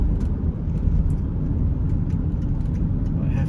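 A BMW E71 X6 pulls away, its engine giving a low, rumbling drone heard from inside the car, steady and fairly loud.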